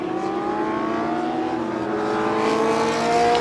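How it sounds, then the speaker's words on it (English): A 1974 March 742 Formula 2 racing car at a Silverstone Classic historic race, its high-revving engine a loud sustained whine rising and swelling as it passes close by. "there is car 47, Graham Ridgway, March 742 again"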